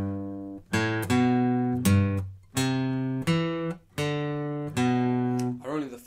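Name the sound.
guitar playing first half of a song riff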